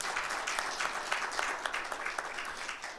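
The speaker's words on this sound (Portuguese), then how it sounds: "Dê um aplauso ao Senhor." Congregation applauding at a religious gathering in Brazil, a continuous wash of many hands clapping for three seconds, moderately distant and fading slightly at the end.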